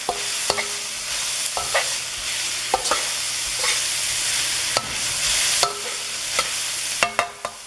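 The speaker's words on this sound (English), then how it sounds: "I'm going to put about a tablespoon, or actually about a teaspoon of garlic, and cook that in and just really season up the oil and the onion." Garlic and onion frying in oil in a pan for a Thai peanut stir fry: a steady, close sizzle with repeated sharp clinks and scrapes of stirring throughout, no voices.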